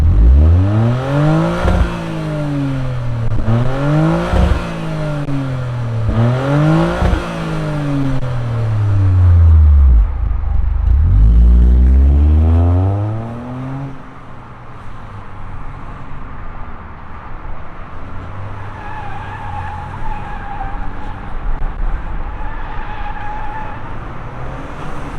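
A 2025 Toyota GR Corolla Premium Plus with the 8-speed automatic starts up and revs hard in several rising sweeps, then pulls away and settles into a steadier, quieter engine drone, loud and close.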